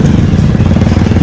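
An off-road motorcycle engine runs loud and close, a steady rough rumbling putter with no letup.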